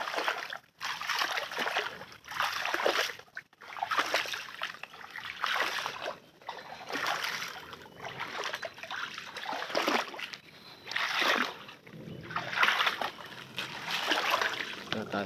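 Small wooden boat sloshing and splashing through fishpond water, with repeated bursts of splashing and trickling close by in a steady rhythm, plus brief quiet gaps.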